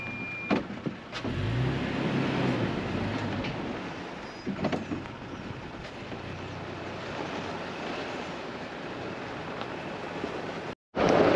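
A long truck reversing on a rough dirt track by old desert mines, a steady engine drone with rumbling and crunching under the wheels, lasting several seconds before ending in a sharp jolt.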